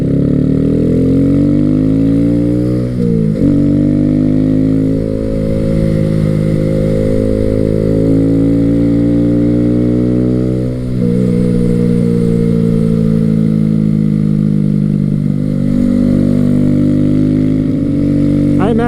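A 2014-2016 Honda Grom 125 (MSX 125) motorcycle engine while riding, a close, loud buzzing drone that rises through gears with brief dips at shifts, steady throughout with wind noise.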